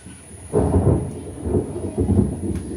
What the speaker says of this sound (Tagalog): Ulan dito sa amin ngayon guys